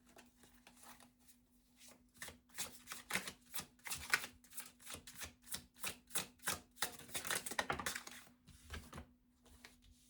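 Tarot cards being shuffled by hand in a quiet room, a quick run of crisp riffling flicks and soft slaps repeating in bursts, close and fairly loud with no talking.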